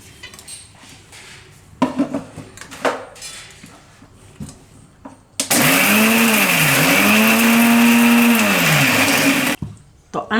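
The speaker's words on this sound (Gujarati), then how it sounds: "તો આને આપણે પહેલાં પીસી લેવું મિક્સર જારમાં" A mixer grinder jar whirs loudly while pulverising sun-dried onions into powder, its motor pitch dipping and rising under the load for about four seconds. Quiet speech and handling noises come first, and the grinding stops abruptly.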